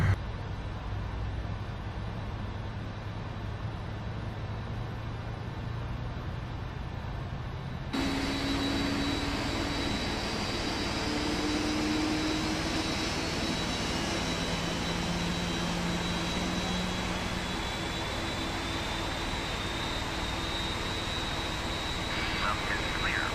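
Airliner jet engines spooling up for a flaps-10 takeoff in the VATSIM flight simulator, departing Munich for Toronto: a steady roar that steps up abruptly and holds a broad, loud whine, with faint tonal hums over the top.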